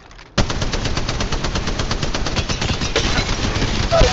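Rapid automatic gunfire from the mobile shooter game Apex Legends Mobile rattles loud and close in a steady, unbroken burst lasting several seconds.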